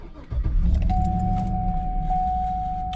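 A 2007 Cadillac Escalade ESV starts up with a short jangle of keys, then the engine catches and settles into a close, steady idle as a high chime tone sounds.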